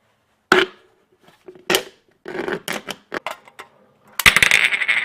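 An aluminium can is cut along a marked line, giving a series of sharp metallic clicks and snips in irregular bursts, ending in a denser run of crackling cuts close to the listener.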